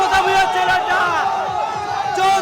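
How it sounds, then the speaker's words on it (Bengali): Local crowd chanting and shouting 'thief' slogans at an arrested ex-MLA's son from Daspur, a loud massed chorus of voices with rhythmic rising cries, close and continuous. "গ্রেফতারের পরে এই কুমারেশ ভূঁইয়াকে লক্ষ্য করে চোর স্লোগান দেন স্থানীয়রা"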